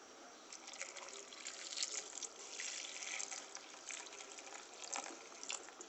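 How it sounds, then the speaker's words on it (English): Water streams steadily into a cooking pot with a continuous splashing rush, faint and even throughout, no voices. "So we're pouring in some water."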